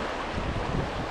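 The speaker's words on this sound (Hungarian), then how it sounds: "Jó, jönnek a hullámok," Waves on the Sava River slap and wash steadily around a small boat, blending with wind rumble across the microphone in a continuous, moderately loud rush.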